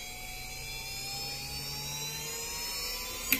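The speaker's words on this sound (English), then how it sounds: "We run, start up the engine. The engine will begin to ignition." A Swiwin model jet turbine engine starts up with a thin, rising high-pitched whine and steady rushing hiss, fairly faint and continuous, ending in a brief sharp click.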